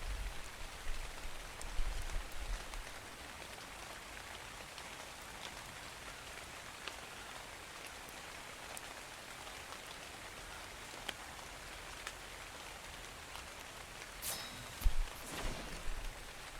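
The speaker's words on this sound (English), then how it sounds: "Oh my God, it's raining." Steady rain falls in a modded ARK: Survival Evolved game world, a constant soft hiss of drops pattering on surfaces throughout, with a few brief louder knocks near the end and no talk.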